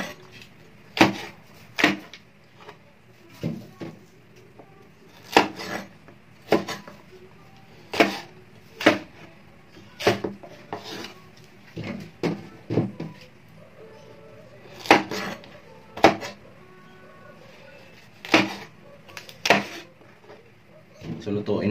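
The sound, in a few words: dull kitchen knife cutting vegetables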